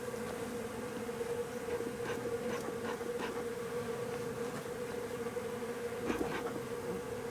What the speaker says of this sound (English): I'm in the path here of the bees going and returning from the outside feeder